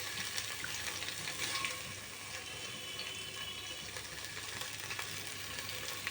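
Batter sizzles steadily in hot oil in a home kitchen, a dense, continuous crackling fry at close range with no talking.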